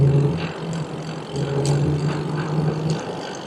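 A car drives past an electric bike on a neighborhood street. Its engine and tire noise is moderate and fairly steady over wind and road rumble, with no talking.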